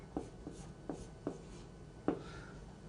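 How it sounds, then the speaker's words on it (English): A pen writes on an interactive whiteboard in a few short, quiet scratchy strokes spaced out over about three seconds. "I'll put the black pen down and pick up the blue pen. And when I write Skills on here"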